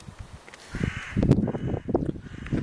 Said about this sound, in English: The birds are calling out.